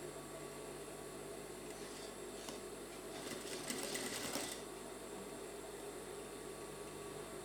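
A sewing machine stitches a dart on trousers, a quiet steady whirring hum that swells briefly louder midway before settling back to an even drone.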